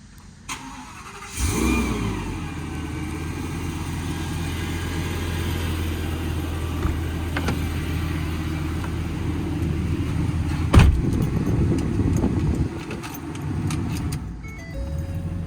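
A 2016 Ford F-550 extended-cab truck with a V10 engine starts up with a short burst and settles into a steady, low, close-up rumble as it pulls away, with a brief clunk partway through.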